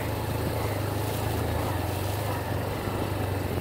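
A constant low engine drone with rushing water and wind noise, like a motorboat running at speed.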